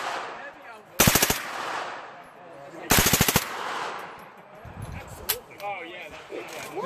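Automatic gunfire at the Live Free or Die 2017 event in Keene, New Hampshire. Two loud, rapid bursts of shots rise out of faint outdoor background noise about two seconds apart.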